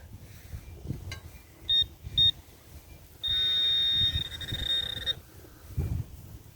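A metal detector signals over a possible silver dime, giving short high electronic beeps and then a longer sustained tone over quiet outdoor background noise.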